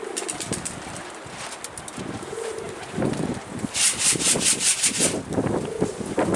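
Pigeons coo and rustle close by, with a burst of flapping wings and scratchy scuffling midway, the sounds coming in short repeated bursts.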